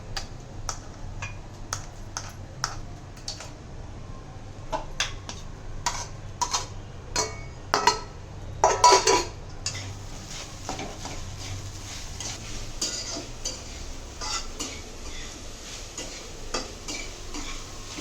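Sabudana khichdi sautéing in a pan: a faint sizzle underneath repeated light ticks and scrapes of a spoon against the pan, irregular and close, with a brief louder scraping burst partway through.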